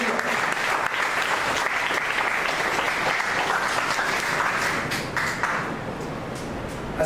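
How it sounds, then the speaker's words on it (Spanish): Church congregation giving a strong round of applause, sustained dense clapping that holds steady before thinning slightly near the end, no talking over it. "De otra ofrenda fuerte de palmas."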